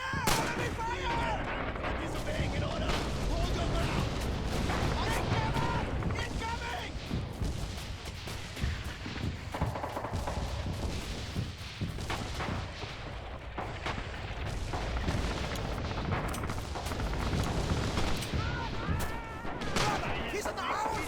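Dense, continuous gunfire and booming artillery from the video game Red Orchestra 2, loud and relentless with rapid rifle and machine-gun bursts layered over heavy explosions, with voices mixed into the din.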